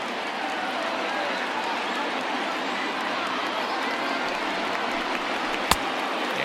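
A crowd of over 38,000 on its feet at an Angels opening day baseball game, a steady roar of cheering and noise that stays constant throughout, with one sharp crack near the end.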